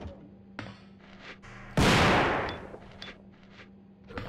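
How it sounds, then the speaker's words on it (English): A powerful weapon fires in Resident Evil 2, one sharp loud blast with a long decaying roar. Softer clicks and footsteps sit before it and after it. "I just wanted to show off why I don't like firing this weapon straight on."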